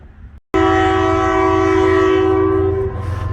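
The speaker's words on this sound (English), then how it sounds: "Here comes the northbound, probably coal train." A northbound coal train passes close by on the main line, its horn sounding one long, loud, steady blast of several tones that holds for nearly three seconds over a deep rumble of the locomotive, then eases off.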